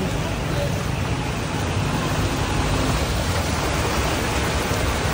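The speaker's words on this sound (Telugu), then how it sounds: "వాన పెరిగింది మళ్ళీ కొంచెం" Heavy rain pours in a steady, dense wash onto a flooded road with a low rumble of traffic beneath, continuous and loud throughout.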